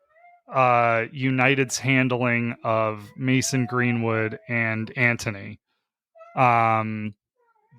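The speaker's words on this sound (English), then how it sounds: "that's the cat reacting to this news as well" A cat meows repeatedly and insistently, with long drawn-out, almost child-like cries in a close, loud series, one more meow after a short pause, and someone talking alongside.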